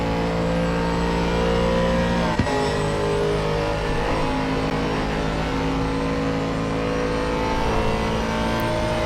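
Aston Martin V8 Vantage GT3 race car engine lapping Suzuka in Assetto Corsa Competizione, a steady loud high-speed drone with harmonic whine running throughout, one brief sharp click near the start, no voices.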